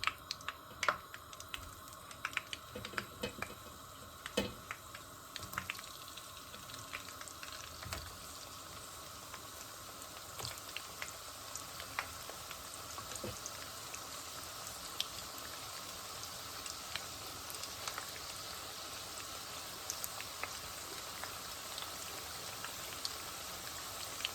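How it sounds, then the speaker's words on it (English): Mixed pakoda fry in hot oil with a steady, faint, dense crackle and sizzle that continues throughout, dotted with small pops. "Now let's fry our first lot."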